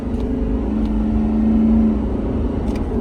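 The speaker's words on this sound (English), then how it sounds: "Oh, it's just spinning tires." A truck's tires spin as it accelerates, with a steady loud engine drone and a sustained whining tone building through the middle, then easing slightly. No one talks.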